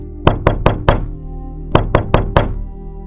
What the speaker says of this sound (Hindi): एक घर का दरवाजा खटखटाता है।